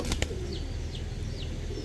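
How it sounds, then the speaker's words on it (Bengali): An orange Chila male pigeon among other pigeons, with a pair of quick wing flaps or claps at the start and soft repeated cooing calls over a steady low background hum. "অরেঞ্জ চিলা নর কবুতর"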